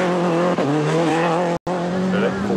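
Richard Burns' Subaru rally car at full throttle, a loud high-revving engine with tire squeal and skidding, close and sustained, briefly cut before resuming.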